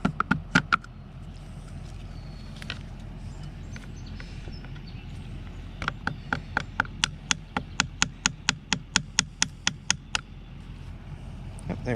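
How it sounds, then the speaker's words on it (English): A metal pin is hammered into a plastic part of a pool sand filter: a few strikes, a pause, then a long run of sharp evenly spaced taps speeding slightly, close and distinct. "So I got the pin halfway in there, and you just want to go ahead and drive it all the way home in there."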